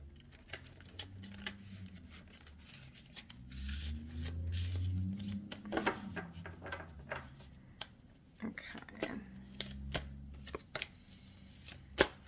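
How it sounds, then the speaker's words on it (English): Tarot cards are shuffled and riffled in repeated quick bursts of crisp snapping and tapping, close up, with some soft handling noises between. "we're gonna do a little shuffle."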